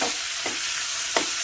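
White sauce pasta is stirred and mixed in a hot pan, with a steady sizzle and two distinct spoon-scraping strokes through the mixture, close and fairly loud, with no talk.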